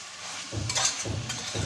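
Marinated mutton frying in hot oil in a pressure cooker while being stirred: a steady close sizzle with soft scraping sweeps of the spoon recurring about every half second.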